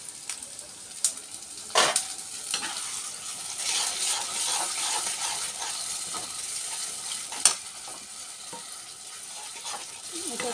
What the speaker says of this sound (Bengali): আমি এটা অল্প একটু কষিয়ে ফ্রাই করে নেব।